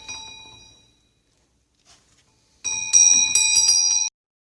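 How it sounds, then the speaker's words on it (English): A mechanical front door bell on a pull cable rings with a bright metallic tone. One fading ring is followed by a longer burst of clanging as the tight cable is flicked, and the sound stops abruptly. "It's so tight that when you just flick the cable it makes the bell vibrate."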